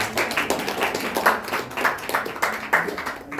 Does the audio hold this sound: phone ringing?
no